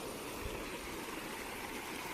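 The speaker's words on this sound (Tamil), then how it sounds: "மேலேருந்து ஒரு கொஞ்சம் தண்ணி வருது பார்த்தீங்களா" Water flows down an irrigation channel from above, a faint, steady broadband rush with no break and no speech.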